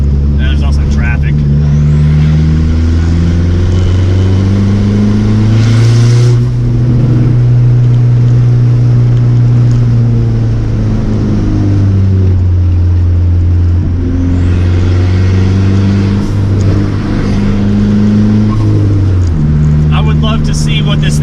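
A Dodge Neon SRT-4 drives on a twisty road with traffic, its exhaust droning loud and steady with low rumbling tones that rise and fall as the engine revs. A voice talks over it in places.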